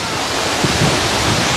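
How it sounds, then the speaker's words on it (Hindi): Water pouring steadily down Tiger Falls in Chakrata, Uttarakhand, a loud, dense and unbroken rush filling the whole clip, with no clear talk over it. "और ये पानी सब बह के इधर जा रहा है इस तरफ"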